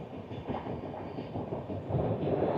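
Onboard the 12337 Shantiniketan Express as it runs through Khana Junction station without stopping: a steady rolling rumble of the carriages with faint wheel clatter throughout.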